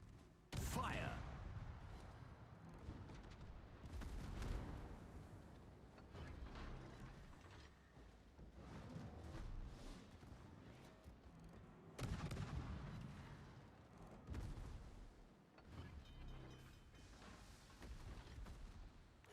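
Battleship guns fire in a naval engagement, with repeated deep booming blasts and rumbling impacts at irregular intervals under an ongoing mechanical din of battle.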